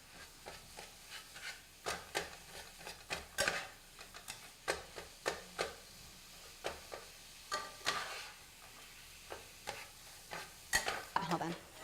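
Meat browns in a pan, with a quiet sizzle under repeated scraping strokes of a utensil stirring at an uneven, steady pace throughout.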